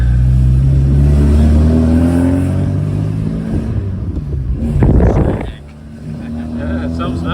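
Sunbeam Alpine four-cylinder engine running on a test drive, a loud steady raspy drone heard from inside the car that dips briefly near the end, with people talking over it.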